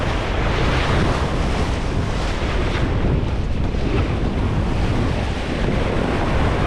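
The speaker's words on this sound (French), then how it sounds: "belle rafale" A strong gust of wind roars across the microphone aboard a sailing dinghy during a race, a dense continuous rush blended with splashing water and surf, with no break throughout.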